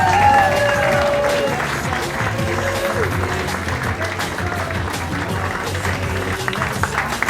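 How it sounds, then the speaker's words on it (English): Wedding guests applaud at a reception as couples are introduced, a dense, steady wash of clapping from a crowd that carries on under music and a voice at times. "Keep that applause going for Sinead and Nathan."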